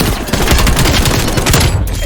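Dense, loud gunfire in Call of Duty: Black Ops Cold War, a continuous rapid fusillade of shots filling the whole stretch, close and harsh, with no clear speech.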